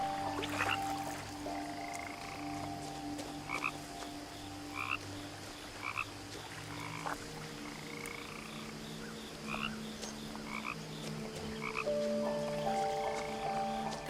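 Frogs croaking in the video game What Remains of Edith Finch, a dense chorus of repeated croaks and chirps over a low steady hum, moderately quiet and continuous, with no talking.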